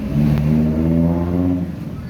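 A Chinese-made Vespa motorcycle engine revs steadily and loudly up close, its droning pitch holding and rising slightly before easing off near the end.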